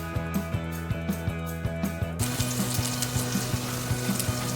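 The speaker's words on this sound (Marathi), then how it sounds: "तेल गरम झालेलं आहे तेलामध्ये लसूण घालूया" Garlic goes into hot oil in a kadhai for street-style masala Maggi. A sudden loud, steady sizzle follows, while a regular tapping or ticking beat continues throughout at close range.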